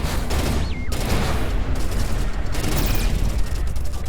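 Spaceship weapons fire in Everspace 2 in a dense, loud barrage of rapid shots with booming impacts, continuous and close throughout.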